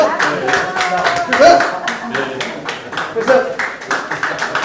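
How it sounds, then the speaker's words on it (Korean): Applause from the audience at a Justice Party Busan campaign launch event while flowers are handed over, a steady crowd of clapping with sharp individual claps, under a voice talking. "주변에서 큰 박수로 응원해 주셨으면"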